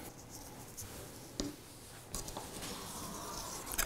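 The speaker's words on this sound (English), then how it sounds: "Now we're just going to cut 3-inch squares." A knife or cutter scrapes and drags through rolled hardtack dough on a work surface, marking it into squares with soft, intermittent scratching strokes and a few sharper clicks, quiet and close, with no talking.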